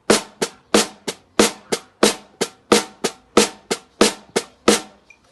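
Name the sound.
snare drum part demonstration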